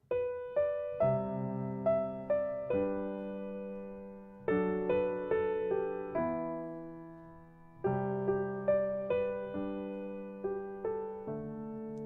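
Solo piano plays the intro of a song, a gentle melody over left-hand chords, with notes struck and left to ring in slow, flowing phrases, clear and close with no talking.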